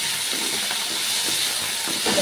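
Pirandai (adamant creeper) sautéing in a pan sizzles with a steady, close hiss that holds evenly throughout, with faint crackles scattered through it and no talking.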